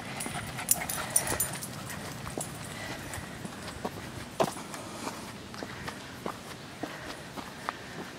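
A dog moves about on an outdoor trail, with scattered footsteps, brief scuffles and faint whimpers at moderate distance against a quiet background.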